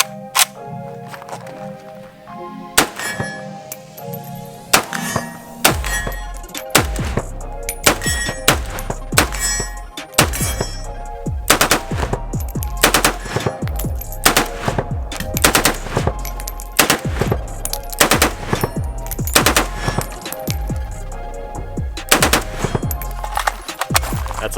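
Milled 704M AK-pattern machine gun firing outdoors in rapid bursts and strings of sharp, loud reports, with brief pauses between volleys and no talking.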